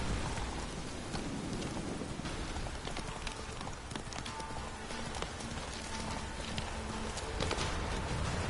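Roach the horse from The Witcher 3 game trotting through rain, steady clip-clop of hooves blended with a constant patter of rainfall, moderately loud and continuous with no voices.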